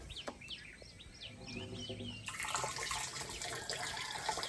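Birds chirp briefly at first, then water gushes out in a steady hissing splash that continues to the end, fairly close.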